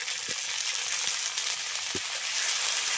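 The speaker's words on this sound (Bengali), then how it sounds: "তাই অল্প করেই পেঁয়াজটাকে ভেজে নিলাম" Onion fries in a pan with a dense, steady high hiss of sizzling oil and a few faint taps from a spatula, close and constant throughout.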